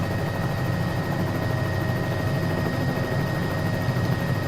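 A Cowan 206 helicopter hover taxis in a flight simulator, its rotor and engine making a steady, unbroken drone with a deep low rumble that holds even and loud throughout, with no talking.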